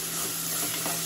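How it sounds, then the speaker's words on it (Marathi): Onion frying in a pan for a dried fish curry, a steady close sizzle with a faint stir, heard alone over a short moment. "बघा जरा गोल्डन पडत चाललेला आहे कांदा, म्हणजे आपला कांदा शिजत चालले"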